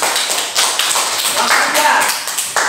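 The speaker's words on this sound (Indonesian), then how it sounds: "Tepuk tangan." A classroom group applauds with loud, close, dense clapping throughout, with voices mixed in.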